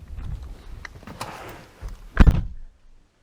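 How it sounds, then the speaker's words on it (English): A Nissan Stagea wagon's car door shuts with one solid close thunk near the end, after some soft rustling and handling noises, then quiet. "The doors shut really nicely."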